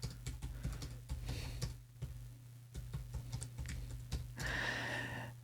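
Clicky taps on a computer keyboard, a quick irregular run of keystrokes close to the mic with brief pauses between bursts, over a steady low hum, with no talking.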